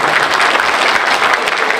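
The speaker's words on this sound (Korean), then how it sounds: "가족 소개를 할 때 큰 박수를 보내주세요." Loud, dense applause from the audience at a book-launch event for an education superintendent candidate as family members are introduced, an even burst of many hands clapping close by with no voices.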